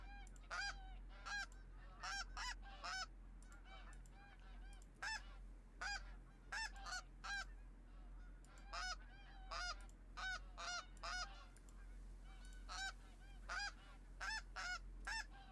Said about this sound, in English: These snow geese.